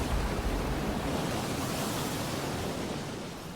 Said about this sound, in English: 1 million liters of water rush through the hotel lobby like a tsunami